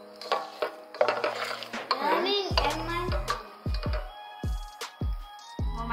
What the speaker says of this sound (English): I'm stirring with a spatula.